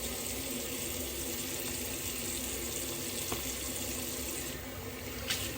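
A tap runs steadily in a sink, a continuous close rushing of water used to rinse the face after a shavette shave.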